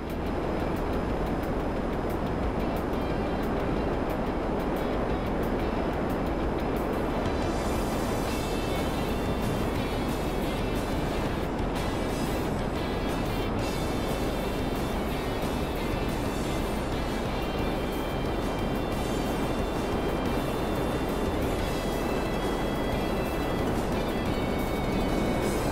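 F-160 Raiju jet climbing in GTA Online, a steady loud roar of engine thrust that holds unbroken throughout, with a brighter high whine rising partway through.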